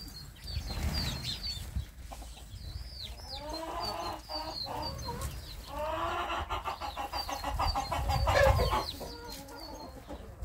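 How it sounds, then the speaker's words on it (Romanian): Farm hens cluck and squawk in bursts at close range, fed in a coop, with some low background rumble and no speech. "Găinile le-am dat de mâncare"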